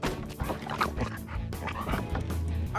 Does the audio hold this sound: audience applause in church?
no